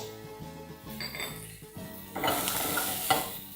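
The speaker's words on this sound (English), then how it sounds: "And now we're going to start by frying our broccoli first." Broccoli fries in olive oil in a pan. Scraping and clinking of stirring come first, then a louder, bright sizzle swells up near the end.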